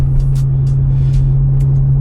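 BMW E92 335i with hybrid turbo, a loud steady engine drone and low rumble from inside the car with a few faint ticking clicks, short and continuous with no voices.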